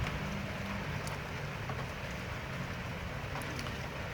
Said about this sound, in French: la pluie est arrivée.